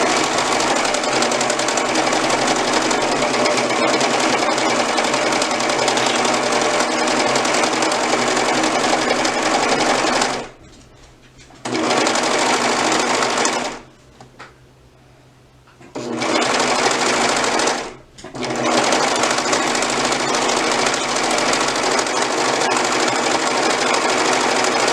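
A sewing machine stitches the second leg seam of a pair of trousers, running in long loud continuous bursts with two brief pauses and one longer stop between runs.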